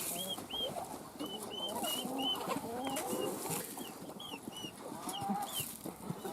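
Hens cluck and chirp repeatedly in short rising calls over a busy, rustling farmyard background with chicks and Muscovy ducks, several birds close by, with no talking.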